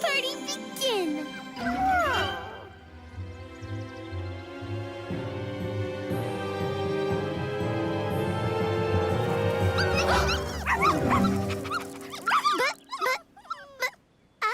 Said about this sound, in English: The puppies are here.